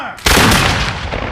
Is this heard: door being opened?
no